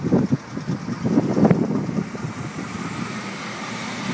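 A 1987 El Camino small-block V8 with a brand new exhaust runs at a low, rumbling idle, heard up close with uneven low pulses and some wind noise, plus a slight rise around the middle.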